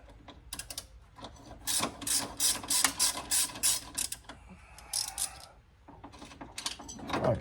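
Ratchet wrench clicking in bursts as it turns a bolt on the front brakes of a 2000-2005 Ford Taurus/Sable, rapid close metallic ticks in several runs with short pauses between them.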